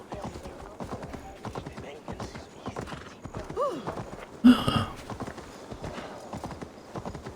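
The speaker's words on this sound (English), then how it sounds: "Why is our horse so damn slow?" Horse hooves clip-clop at a steady gallop rhythm in Assassin's Creed Valhalla, fairly close and continuous, with a brief whinny partway through and someone talking over the action.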